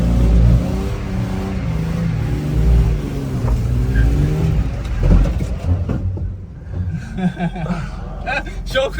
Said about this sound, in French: Voilà comment on drift